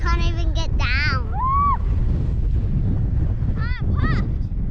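Gusty wind buffets a steep hillside in Lincoln National Park near Coffin Bay, a steady loud roar that runs the whole time while voices whoop and call over it.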